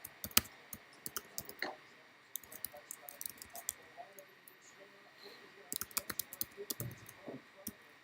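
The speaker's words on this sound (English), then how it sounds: "I'll type it in here as well." Computer keyboard typed on during a 2023 Topps Series 2 baseball card box break, with light, irregular keystroke clicks in scattered bursts and a faint hint of voices in the background.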